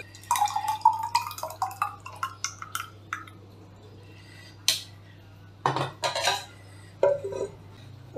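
Thick homemade ragi porridge (koozh) is poured into a metal pot, bringing a run of sharp metallic clinks and clatters, then a few scattered knocks and drips with quiet gaps between.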